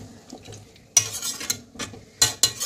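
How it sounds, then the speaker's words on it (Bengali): Chicken for biryani being stirred and fried in a pot, with a few loud metallic scrapes and clanks of the spoon against the pan over a light sizzle. "মাংসটা আমি এইভাবে নেড়ে নেড়ে কষিয়ে নেবো ভালো করে"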